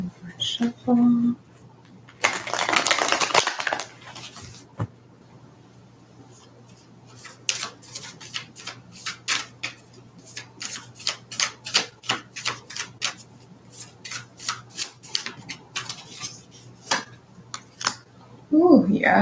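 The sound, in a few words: shuffling oracle cards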